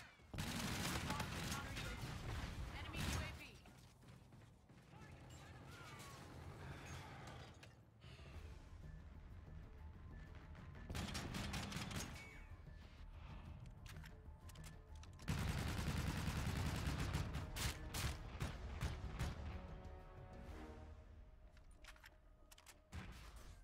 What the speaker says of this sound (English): heavy gun